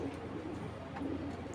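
Racing Giribaz pigeons coo softly in a low, continuous murmur, a few faint rolling calls close by over steady background hiss.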